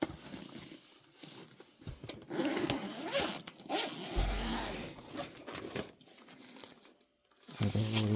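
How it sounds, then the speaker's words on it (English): Clothing-style zipper pulled open or closed on an old laptop bag, a close raspy zip running for several seconds with crinkling handling noise around it, then a brief pause and more rustling. "Zipper."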